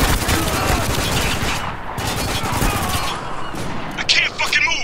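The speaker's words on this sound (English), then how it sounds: "Hostile shooting from that hole!" Heavy, continuous gunfire fills the scene in the video game Spec Ops: The Line, dense automatic bursts and shots at high volume throughout, with shouted voices mixed into the firefight.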